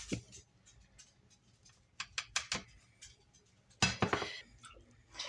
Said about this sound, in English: She's drinking water like crazy.